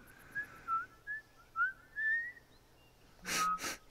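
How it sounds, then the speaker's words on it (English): Ellie, a character in the video game The Last of Us, whistles a string of short, clear rising and falling notes, followed by a brief louder burst of noise near the end. "I'm whistling!"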